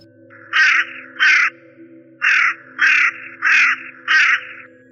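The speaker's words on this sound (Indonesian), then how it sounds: "Terdengar burung gagak begitu berisik mengadang perjalanan kami." Six loud, harsh crow caws in steady succession, grouped in a pair and then four, ringing out close over a low background hum.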